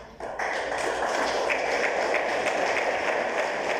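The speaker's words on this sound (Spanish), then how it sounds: "pero muchos aplausos." A crowd at the 35th anniversary ceremony of the Guillermo Haro Astrophysical Observatory in Cananea breaks into steady, moderately loud applause that starts abruptly and carries on evenly.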